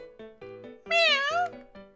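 An animated cat in a video game gives a long, clear, rising-and-falling meow over a steady musical backdrop with repeated tones, bright and close.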